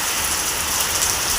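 Rain falls steadily around a house on a rainy day, an even, close hiss of drops on surfaces with no voices.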